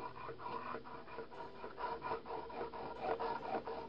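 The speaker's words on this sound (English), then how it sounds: "I can tell that this diamond is cutting in pretty good" A diamond file rasps back and forth across a damaged switchblade knife blade clamped low in a vise, quick rhythmic rubbing strokes, close and fairly quiet, with no talking.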